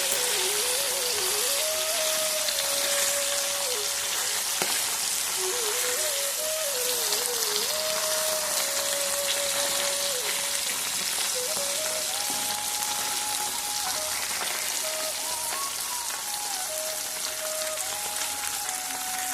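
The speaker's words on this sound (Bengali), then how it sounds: "এখন মাছগুলো ভাজা করে নিচ্ছি।" Fish fries in a pan on a home stove, a loud, dense, continuous sizzle like heavy rain that runs unbroken throughout, with a wavering melodic tone floating above it.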